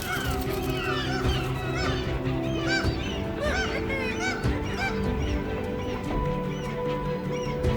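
A large crowd of migrating gulls at a hypersaline basin, calling over one another in a constant chorus of sharp, overlapping cries, loud and close.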